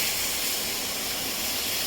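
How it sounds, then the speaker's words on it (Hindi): Tomato puree hits a hot pan while a festive fasting thali is cooked, and a dense, steady hiss of sizzling carries loudly and continuously throughout. "टोमेटो प्यूरी डाल रही हूँ।"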